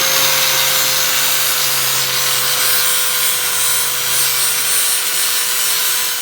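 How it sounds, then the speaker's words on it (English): A grinder works plug welds smooth on a Willys MB Jeep tub, a loud continuous abrasive rasp with a steady motor hum, close and uninterrupted. "Just working on grinding off some of the plug welds here, make them nice and smooth."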